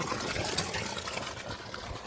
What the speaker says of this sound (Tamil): தண்ணி போய்கிட்டு இருக்குது